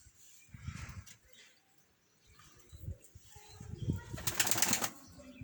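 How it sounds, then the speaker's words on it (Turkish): Pigeons leave their loft with bursts of flapping wings, near and then fuller toward the end, over soft background rustle. "Evet kuşlarımız da yavaş yavaş çıkıyor arkadaşlar."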